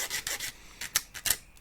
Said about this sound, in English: Hacksaws are really useful for fucking cutting shit.